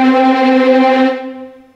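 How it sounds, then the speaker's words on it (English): Sampled orchestral string section from the BBC Symphony Orchestra Discover library playing a sustained tremolo chord, rich and steady for about a second before fading out, heard alone. "Tremolo is when you go up and down the string and it sounds like this."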